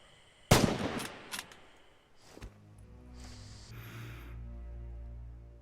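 Rifle fired at downrange targets in the video game Red Orchestra 2: Heroes of Stalingrad: one sharp, loud crack near the start, a second shot about two seconds later, then quiet rumbling ambience.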